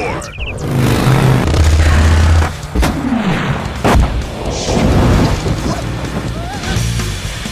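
Tank battle explosions from the 1998 Nintendo 64 game BattleTanx, loud rumbling booms and crashes with a sharp blast near the start and more impacts through the middle, mixed with music and a narrator's voice.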